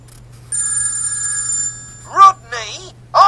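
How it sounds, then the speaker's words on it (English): A telephone bell ringing with a sustained electronic trill for about a second, followed by a voice speaking in short bursts. "Rodney, answer that phone"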